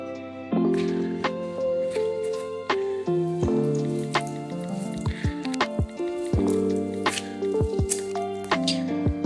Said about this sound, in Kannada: ಬೆಲ್ಲ ಕರ್ಗಿಸಕ್ಕೆ ಇಟ್ಟಿರೋ ನೀರನ್ನ ಹಿಂಗೆ ಹಾಕ್ಬಿಟ್ಟು ಚೆನ್ನಾಗಿ ಸೋಸ್ಕೊಳ್ಳೋದು